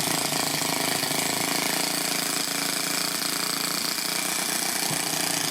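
A Toyan FS-S100AC miniature four-stroke engine kit running: a continuous, loud, rapid buzzing rattle with a harsh high-pitched whine, steady throughout at close range.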